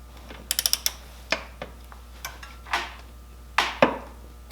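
Torque wrench tightening a bolt to 45 foot-pounds while installing a lowering kit on a 2009 Harley-Davidson Street Glide: a fast burst of sharp ratcheting clicks, then several separate louder clicks and metallic knocks, close by, with no talking.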